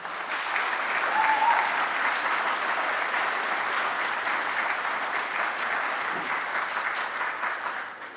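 A conference audience applauding a motion passed by acclaim at a political party's annual conference, with loud, sustained clapping from a large crowd that fades toward the end.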